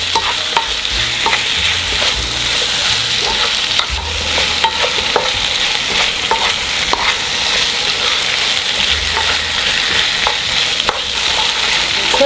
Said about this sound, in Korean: 간을 하면서 볶아주세요.